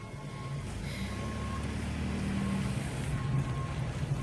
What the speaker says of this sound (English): Let's try to find out what's beeping.